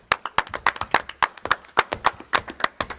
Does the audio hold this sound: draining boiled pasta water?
no